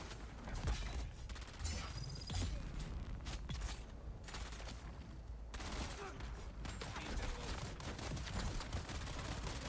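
Dense rattling gunfire from enemies in Dune Awakening, sustained bursts of rapid shots overlapping continuously at a loud, steady level throughout.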